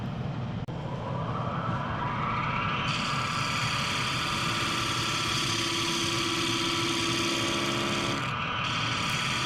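A wood lathe spins a small square plate while a hand-held tool cuts at its edge, giving a steady whirring hum with a rough, continuous scraping hiss. The cut cuts out briefly near the end. No voices are heard.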